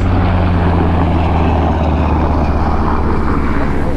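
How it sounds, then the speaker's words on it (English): A loud, steady rotor-and-engine roar from a helicopter flying low over a beach during surf fishing, filling the whole stretch with unbroken deep rumble and no talk. "now we got a helicopter like right on the beach"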